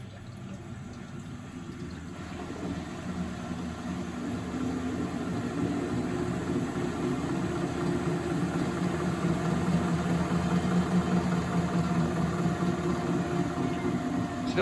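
A Miele WS5073 washing machine draining water after a spin, giving a steady low pumping and churning drone with sloshing water, rising slightly and holding constant throughout with no talk.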